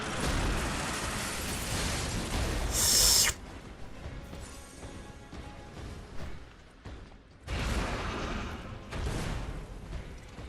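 Gunshots in the action game Lies of P ring out as loud, broadband bursts and blasts, with a quieter, rumbling lull between heavy volleys and no one talking.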